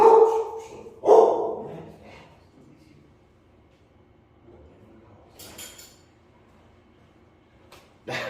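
A dog barks at someone at the door of a home: two loud, sharp barks at the start, then quieter whimpers and rustling, with a brief clatter near the end.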